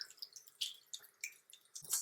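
Water is squeezed out of makeup brushes over a sink, making faint, close, rapid wet drips and squelches in an irregular patter with no voices.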